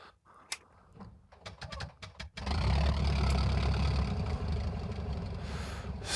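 Tiger Moth biplane engine starting after a few sparse clicks and pops, then catching into a steady, loud, close idle rumble that holds to the end.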